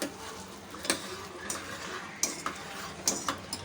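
Snake gourd kootu is mixed in a pan after the tempering is added: a spoon scrapes softly while sharp metallic clinks land irregularly, about six of them, close by, with no talking.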